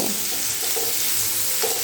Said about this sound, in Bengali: এবারে তেলের সঙ্গে এই পেঁয়াজগুলো একটু ভালো করে ভেজে নেব